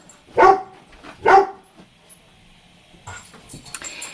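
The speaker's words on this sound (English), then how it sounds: "I'm watching some dogs again, which you will probably hear" Two sharp dog barks close by, about a second apart, followed by quieter rustling and shuffling sounds.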